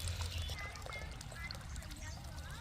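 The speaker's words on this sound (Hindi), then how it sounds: "आपको भरपूर पानी तब तक देना है जब तक ऊपर तक पानी ना आ जाए।" Water poured generously into a potted mango plant until the pot fills to the top, a steady, continuous rushing pour with no pauses across the whole stretch.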